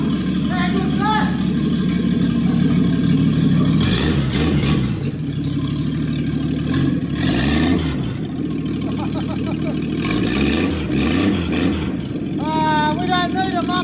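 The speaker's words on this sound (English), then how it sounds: "Let's see how good this motor is." A rebuilt Holden HJ car engine revs several times in rising and falling surges over a loud idle, with people talking close by.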